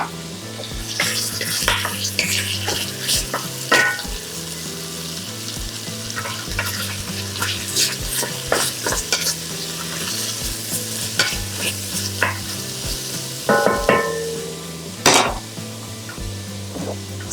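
Vegetables for a coconut, ginger and turmeric minestrone sizzle in a pot while a utensil stirs and scrapes them, loud close clacks and scrapes repeating irregularly over a steady frying hiss, with no talking.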